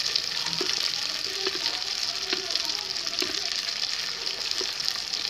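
Marinated chicken 65 pieces frying in oil over a low flame, a constant close hiss and sizzle with occasional small pops and faint stirring.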